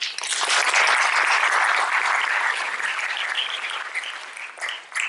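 Audience applause after a lecture on personal branding with social media at a venture forum; a loud, dense round of clapping that swells early, then thins and trails off into scattered claps.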